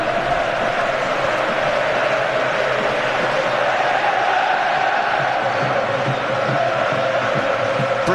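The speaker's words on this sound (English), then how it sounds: "Steve McLaren appealed for big backing from the Wembley crowd." A huge Wembley football crowd roars continuously in support of England against Croatia, a dense, steady wall of cheering and chanting that carries through the whole stretch without letting up.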